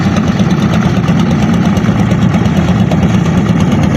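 Loud, even chugging from a river trawler's engine, struggling against rough water, fills the whole stretch with a close, steady knocking throb and no voices.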